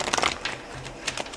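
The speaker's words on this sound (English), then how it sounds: "That was a bad shuffle." A deck of tarot cards being shuffled close by, a quiet burst of rapid papery riffling followed by a few softer flicks and taps.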